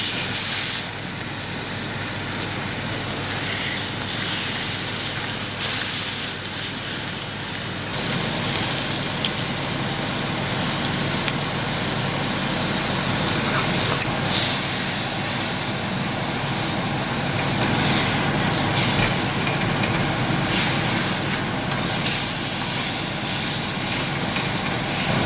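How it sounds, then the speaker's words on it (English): Eye fillet steak sears in a hot pan with a loud, continuous hiss and crackle that holds steady throughout. "basically what I do is just kind of sear it lightly"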